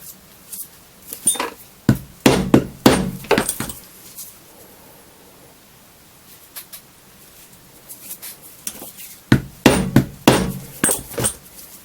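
Repeated sharp hammer blows drive 3D embossing stamps into leather, two close clusters of crisp, loud strikes separated by a few seconds of quiet.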